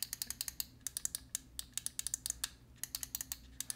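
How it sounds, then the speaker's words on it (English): Sharp, close clicks from the side buttons of a Pwnage StormBreaker gaming mouse come in quick irregular bursts, crisp and dry against a quiet background. "every button on this mouse and the scroll wheel, the sides as well, everything is clicky right to the point"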